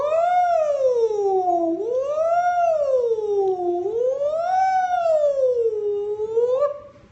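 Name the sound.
voice imitating a siren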